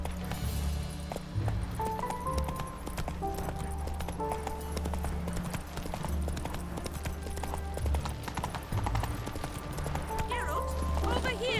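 Geralt's horse Roach galloping in Witcher 3, hooves clip-clopping in a steady, rapid rhythm throughout, mixed with game music and people talking over it.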